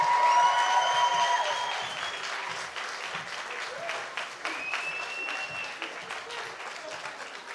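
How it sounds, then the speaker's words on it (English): A hall audience at a student candidates' quiz event gives sustained applause, dense and fairly loud at first, then gradually thinning, with some voices and whoops underneath. "give a big round of applause for your societies and services officer candidates"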